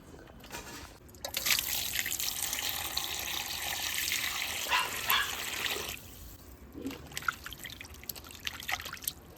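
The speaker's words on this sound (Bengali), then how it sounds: "এবার মাছটা আমি ধুয়ে নিই" Katla fish pieces are washed in a pot of water: close splashing and trickling under a running tap, steady for several seconds and then tapering off into occasional drips.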